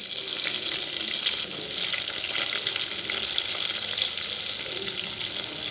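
Broad beans fry in hot oil with garlic and onion, a dense, steady sizzle and crackle close up that runs without a break, with faint stirring.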